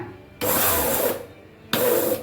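A mixer grinder grinds roasted curry leaves in two loud, dense bursts, each starting abruptly and running about a second, with a quieter motor hum between them.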